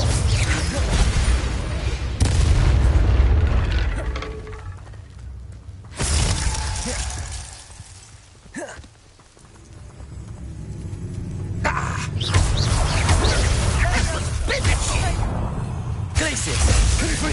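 Loud spell blasts from the Hogwarts Legacy video game, Glacius, Confringo and Incendio, as bursts of crackling, shattering impacts in several waves with brief lulls between them, amid game combat noise and voices.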